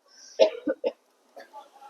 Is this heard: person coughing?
yes